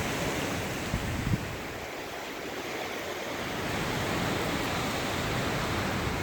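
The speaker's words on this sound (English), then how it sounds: "Hurricane Sept blowing stuff down. Look at that, boy. It's about to pop them trees." Hurricane Sally winds roar continuously at Fort Walton Beach, Florida, a dense, broad rushing wash with gusting swells and buffeting against the microphone, no voices heard.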